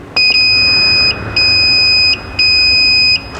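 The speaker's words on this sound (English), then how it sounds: "The machine beeps 3 times and it says save data." A wheel balancer gives three long electronic beeps in a row, each a steady high-pitched tone of under a second with short gaps between, loud and close.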